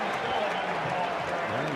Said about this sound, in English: You'll never hear a louder cheer for a 4-yard quarterback keeper than that.